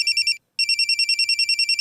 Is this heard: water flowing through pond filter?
no